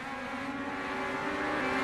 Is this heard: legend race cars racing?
yes